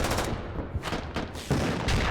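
Vehicles fire weapons in the military video game Squad Ops, a dense, continuous barrage of loud booming gunfire with heavier blasts punching through every half second or so.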